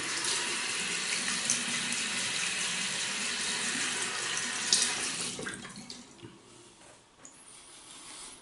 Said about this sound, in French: Fait que je me mouille la figure, puis on va aller avec euh, la deuxième passe.